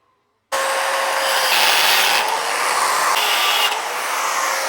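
An angle grinder works the side of steel axle bolts before welding on an electric go-kart, giving a loud, steady, close rasping whine that starts abruptly and holds for several seconds without talk.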